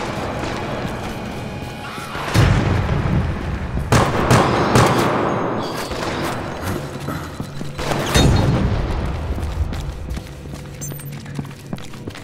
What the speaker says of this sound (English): Oh, that time the bomb got the zombie.